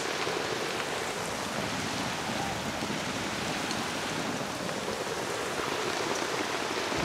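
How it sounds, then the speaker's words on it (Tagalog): Heavy rain pours down steadily, a dense, constant hiss of drops on surfaces with no pauses. "Hindi biro yung ulan, malakas."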